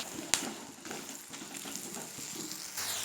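Fish with salt, turmeric and green chillies sautéing in a pan, a quiet steady sizzle and crackle with occasional soft clicks of stirring.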